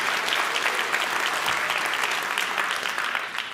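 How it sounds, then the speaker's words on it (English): Sustained applause from an audience for a class of young children at a university State of the University address, dense steady clapping throughout that thins slightly near the end. "you clapped a whole lot louder for them than ever for me"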